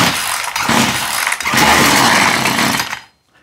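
A Husqvarna 142 chainsaw with a replaced carburetor is pull-started on full choke: close, loud rasping bursts of recoil pulls and sputtering, with brief dips between pulls, then sudden quiet near the end.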